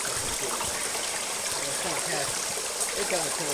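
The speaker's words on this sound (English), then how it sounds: "Water." Water flows and trickles steadily in an outdoor stream, a close, continuous babbling rush.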